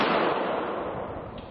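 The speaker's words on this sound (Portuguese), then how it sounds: "Os snipers, atiradores de precisão do grupo, também se dedicam diariamente para, caso necessário, sempre terem sucesso, como neste disparo" A police tactical team's sniper rifle fires a single shot, a loud, broad blast whose echo rolls off and slowly fades over a second and a half, with no voices.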